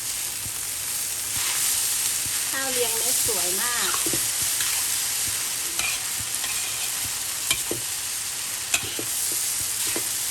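Continuous sizzle of rice and egg being stir-fried with sausage in a hot pan, with scraping of a spatula; someone speaks briefly over it.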